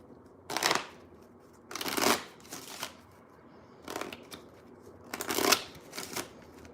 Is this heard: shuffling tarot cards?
yes